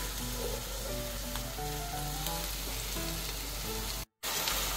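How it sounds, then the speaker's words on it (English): Garlic and onion sauté in a pan, a steady close sizzle and crackle with light stirring, running alone without talk and dropping out for a brief moment near the end. "I'm sauteing garlic and onion."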